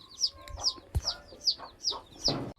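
Young chickens chirp and cluck in a regular series of sharp, high calls about every half second, close and moderately loud, with a thump partway through.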